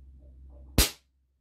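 One sharp, close pellet shot from a 6-inch ASG Schofield 4.5 mm revolver bursts over a low steady hum and decays quickly into silence.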